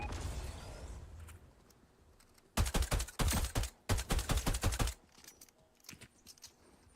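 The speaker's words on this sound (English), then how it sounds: "We're getting sniped at now." Rapid bursts of gunfire in a Fortnite match crackle loudly in two clustered volleys lasting about two seconds, over a low background rumble, followed by a few faint scattered pops.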